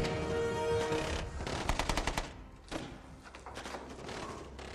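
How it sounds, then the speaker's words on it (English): Loud rapid bursts of automatic gunfire, sustained and overlapping, with thuds and echoing cracks in a dense, chaotic barrage. "there's non-stop gunfire."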